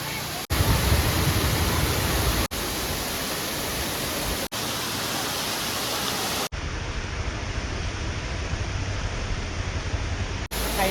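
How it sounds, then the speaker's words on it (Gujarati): A waterfall in a wildlife sanctuary roars as a steady, dense rush of falling water, loud and unbroken, with a few abrupt cuts in the sound. "તો અહીંયા એક મસ્તનો ધોધ પડે છે"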